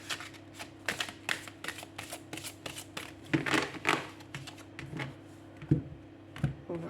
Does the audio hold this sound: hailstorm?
no